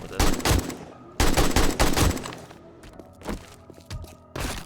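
Rapid bursts of gunfire while shooting a bear in the survival game 7 Days to Die, loud, close volleys around the start and middle, then single sharper shots and clatter, with a voice speaking briefly.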